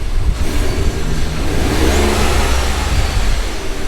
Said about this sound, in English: I hear more turbo noise than anything.